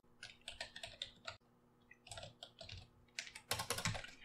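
Java code typed on a computer keyboard, with quick, faint bursts of key clicks in uneven runs and a short pause partway through.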